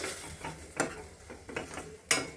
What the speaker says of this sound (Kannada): ಚೆನ್ನಾಗಿ ಮಿಕ್ಸ್ ಮಾಡಿಕೊಂಡು